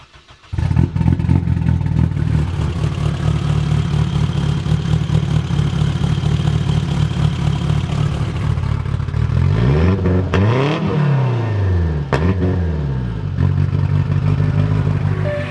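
A turbocharged Honda S2000 with an F20C engine on 50 psi of boost, around 900 horsepower and an AEM ECU, idles with a loud, lumpy, uneven rumble, then gives a few sharp throttle blips that rise and fall near the end.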